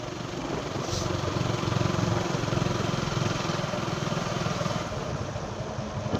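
A tractor engine climbs a hill road between hills, a steady mid-pitched drone that stays loud and close for the whole stretch with no talk over it.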